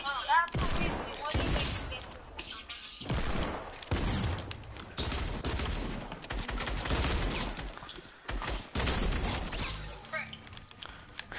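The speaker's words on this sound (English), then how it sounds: "This tack is, like, honestly the best shotgun in the game." Rapid blasts from a Tac shotgun in a video game, several loud shots fired in quick succession between pauses, with a voice talking over the gunfire.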